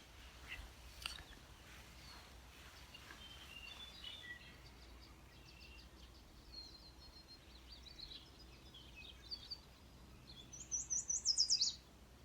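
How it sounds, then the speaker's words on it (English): A meadowlark sings faintly from some distance in an open county park. Its soft melodic phrases are scattered among other birds' chirps, and a closer bird trills rapidly near the end. "We had a meadowlark sing from the left side of the camera. That beautiful melodic song."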